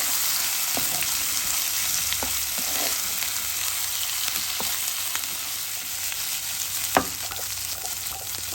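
Mutton spleen pieces frying in a pan for a curry, a steady loud sizzle throughout with occasional light pops and crackles, no voices.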